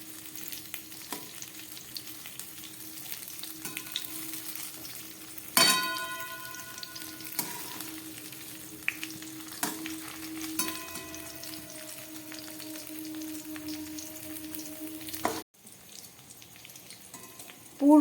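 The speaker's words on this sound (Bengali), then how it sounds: "পুর ভরা পটলটাকে উল্টে উল্টে ভালো করে ভেজে নেব।" Stuffed pointed gourds (potol) frying in hot oil give a steady close sizzle, broken by sharp clinks and scrapes as they are turned in the pan, with a brief lull near the end.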